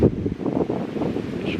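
Strong gusty wind roars across an outdoor microphone during a spring public-land turkey hunt in Kentucky, a steady loud buffeting with no voices.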